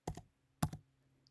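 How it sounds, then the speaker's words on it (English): Two quick bursts of keystrokes on a computer keyboard, close and clear, separated by a short pause in an otherwise quiet room. "Let me see if I can type his name right."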